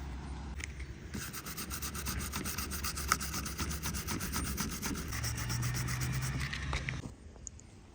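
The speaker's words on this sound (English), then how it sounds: "we're gonna sand it down, make it flush" Close, continuous rasping of sandpaper rubbed back and forth over a plastic car bumper for several seconds, then stopping abruptly.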